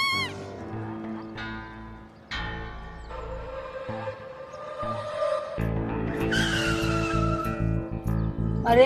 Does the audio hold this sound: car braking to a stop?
yes